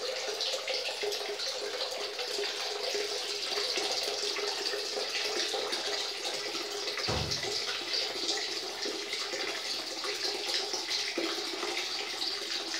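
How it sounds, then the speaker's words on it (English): Tap water runs steadily into a basin as hands, elbows, arms and face are rinsed of road grime, with one brief splash partway through and no talking. "this is just a quick hand and face wash to get the road grime off the elbows"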